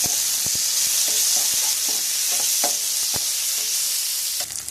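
Tomato dropped into a hot frying pan and stirred, a loud continuous sizzle punctuated by several sharp scraping and clinking strokes of the spoon against the pan, with no voices.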